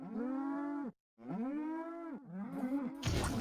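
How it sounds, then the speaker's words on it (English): Cartoonish cows in a South Park video game let out three long, drawn-out moos in succession, loud and close, the last one giving way to a burst of game noise. "as if you're not hearing enough cows already."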